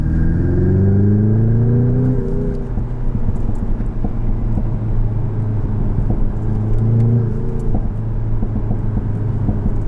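A 2021 Jaguar F-Type P300 convertible engine drones loudly from inside the car, its pitch climbing twice as it accelerates and then settling.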